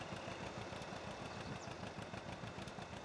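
Tractor pulling a new round baler in Farming Simulator 19, a steady loud engine drone with a fast, even knocking pulse running throughout, alone without talk.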